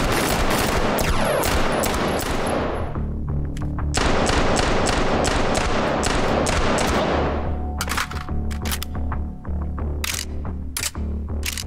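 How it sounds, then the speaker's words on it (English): Rapid gunfire from a virtual-reality shooter, Hot Dogs, Horseshoes & Hand Grenades: loud bursts of sharp shots in quick succession, broken by short gaps and then dense volleys again, with clicks and mechanical handling sounds between, all close and continuous. "Right now I can fire it."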